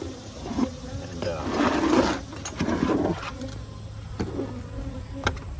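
Honey bees buzz inside an open, crowded hive, a steady low hum swelling louder near the middle with occasional close passes and light knocks from handling.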